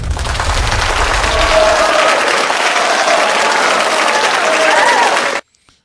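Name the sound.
applause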